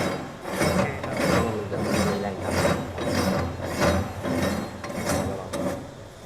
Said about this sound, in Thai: แล้วเราก็ใช้ตัวนี้บีบอัดเข้าไป ขันเข้าไปให้มันพอตึงมือครับ